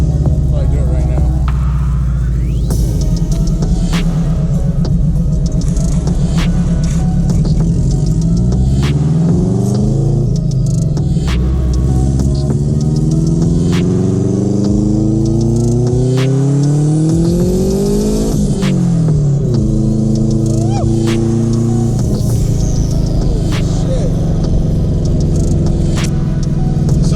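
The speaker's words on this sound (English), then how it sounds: "I'll try to do a pull so you guys can get a little bit of the turbo sounds." Subaru WRX turbo engine pulling hard in second gear, loud and close, revs sweeping upward in several rising bursts with turbo whine and shift breaks, a voice talking briefly over the engine.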